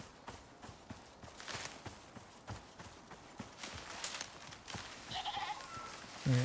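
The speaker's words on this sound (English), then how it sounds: "There's another one of the goat things." A goat-like creature in the survival video game Icarus, its bleats coming near the end over a steady run of rhythmic hoof-like footsteps, fairly quiet at first and louder at the close.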